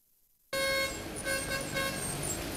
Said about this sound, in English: Traffic jam on Ahmadu Bello Way, Victoria Island after close of work.